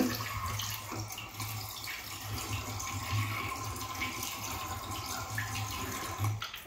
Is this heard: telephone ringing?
no